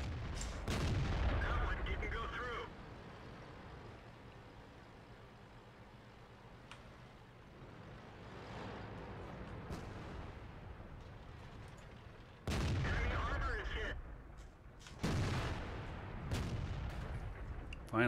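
Artillery fire in the tank combat game World of Tanks: several heavy booming blasts with rumbling tails, some close and loud, others more distant, alongside softer game noise.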